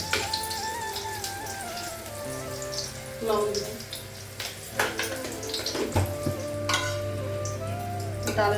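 Dal is tempered in hot oil with dried red chillies and green chillies, giving a steady close sizzle and crackle with brief spattering bursts, stirring clinks and a low background hum throughout.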